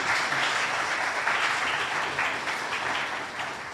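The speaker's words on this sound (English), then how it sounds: "Can you have another round of applause for our sponsors?" Audience applause fills a conference hall at the opening ceremony of a regional community resilience event, a steady, dense clapping that holds at even strength for the full stretch before easing slightly at the end.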